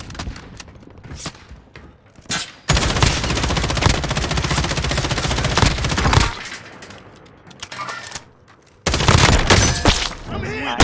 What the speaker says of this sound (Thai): ผมโดนยิง